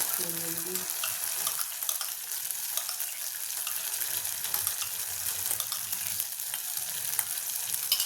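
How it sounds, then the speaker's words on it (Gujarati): Tomato and cashew paste being stirred as it fries in a pan for a mixed vegetable paneer dish, a steady bright sizzle throughout with soft scraping of the spoon and faint watery sounds, close and continuous. "હલાવી દઈશું"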